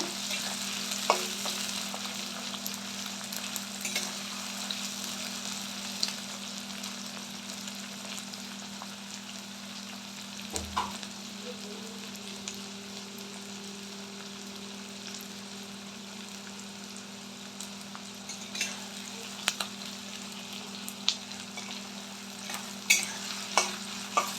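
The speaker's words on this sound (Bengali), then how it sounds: "তো পেঁয়াজটা আমি একটু লাল লাল করে ভেজে নেব" Onions frying and being stirred in a pan for a Sunday mutton curry, with a steady close sizzle, a constant low hum and occasional scraping stirs over about twenty-four seconds.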